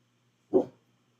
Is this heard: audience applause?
no